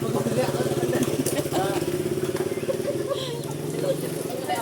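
A motorcycle engine chugs steadily nearby with a low, rhythmic putter while people talk over it.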